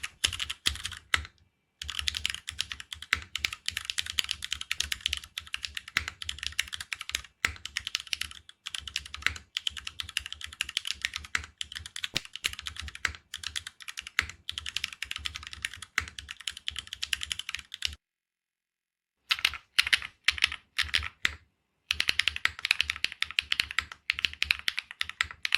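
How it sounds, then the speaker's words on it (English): Typing on a mechanical keyboard with lubed switches, a steady rapid stream of close, crisp keystrokes running alone for long stretches, broken by a few brief pauses. "For typing sounds, I've prepared 2 sets for everyone."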